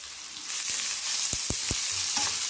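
Crushed ginger, black pepper and garlic sauté in a hot pan for an egg gravy, a steady close sizzle broken by three quick scraping strokes of a spoon.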